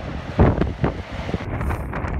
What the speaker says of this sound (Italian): C'è un vento spaventoso, mi dà abbastanza fastidio